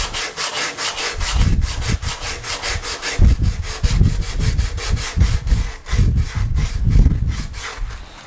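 Sandpaper worked by hand over a headstock repair on an acoustic guitar, giving loud, close, rhythmic rasping strokes in a steady back-and-forth pattern with no talking.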